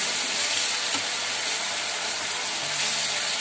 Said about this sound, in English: that's been frying for two to three minutes now